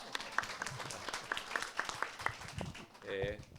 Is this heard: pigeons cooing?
no